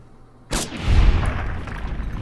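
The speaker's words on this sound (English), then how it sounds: "Nice shot!" A single loud gunshot rings out in Fallout: New Vegas, a sharp crack followed by a heavy booming tail that decays slowly over the quiet background.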